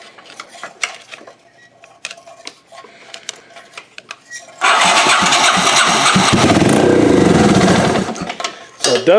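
A payloader engine cranks and catches after a few seconds of light clinking and rattling, then runs loud and steady up close, its rough mechanical roar filling the rest of the clip before a brief dip near the end.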